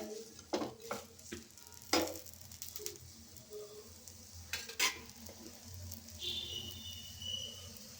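A wheat flour dosa cooks on a pan with a faint sizzle, while a spatula scrapes and taps several times as it lifts and turns the dosa, all fairly quiet and close.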